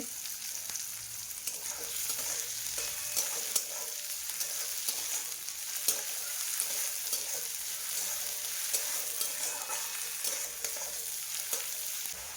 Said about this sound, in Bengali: আমি ব্রাউন কালার আসা পর্যন্ত আমি ভেজে নেব পেঁয়াজগুলোকে।